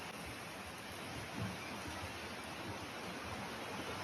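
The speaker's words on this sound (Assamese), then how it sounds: "ইমানতে বৰষুণ আহি গ'ল।" Steady rain pours down around an outdoor building site where wooden planks are set up to cast a concrete step, a dense continuous hiss with no voices.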